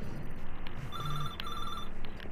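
A hacked payphone ringing in the video game Watch Dogs 2, a bright electronic double ring repeating steadily at close range, loud and clear over faint background ambience, no talk.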